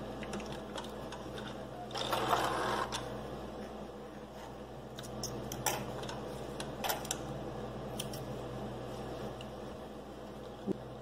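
A sewing machine backstitching a bag seam, running with a faint low mechanical hum and brief ticking bursts at a quiet level.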